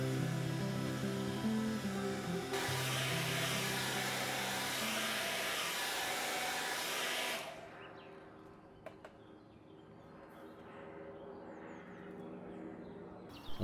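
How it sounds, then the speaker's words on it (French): A hair dryer blows steadily at close range over leather being renovated on an Aston Martin DB7, a loud broadband whoosh lasting about seven seconds before switching off and leaving a quiet room with faint clicks. "je préfère largement accélérer le processus en utilisant un sèche-cheveux"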